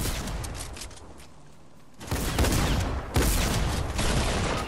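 Rapid bursts of gunfire in Fortnite, loud and dense, with a quieter stretch before heavier volleys break out again near the end.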